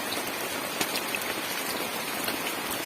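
Steady rain falls and patters on surfaces, a dense, even hiss with scattered drop ticks throughout and no voices.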